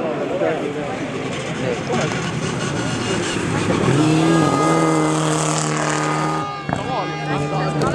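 A Volkswagen Golf rally car at the Saaremaa Rally races past, its engine rising to a loud revving roar that peaks and fades, while spectators talk nearby throughout.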